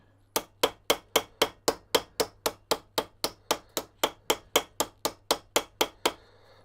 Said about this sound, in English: I'm going to go and peen these a bit more as well.